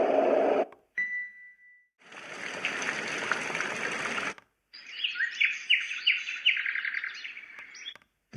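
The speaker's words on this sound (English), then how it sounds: "As for the loops, I timed the Bird's loop at 1 minute 55," Bird chirps and tweets played through the speaker of a white noise machine, with bright clustered calls over a soft trickling water-like background, broken by short silent gaps between sections.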